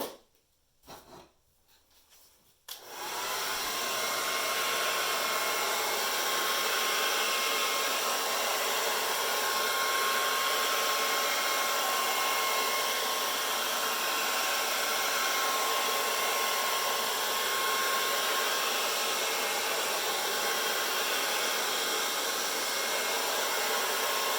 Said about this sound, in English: add black, and use the hairdryer